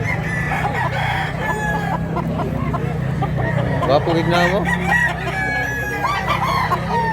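Roosters at a rural poultry market in Mantalungon, Cebu, crowing and clucking repeatedly at middle distance, with people talking over them and a steady low hum of traffic or crowd underneath.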